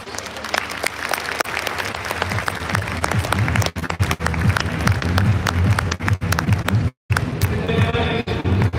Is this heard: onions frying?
no